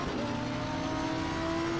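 A GT race car engine drones loud and steady in the Assetto Corsa Competizione racing game during a Blancpain Endurance Cup round at Monza. A held engine tone runs throughout, with no other sounds.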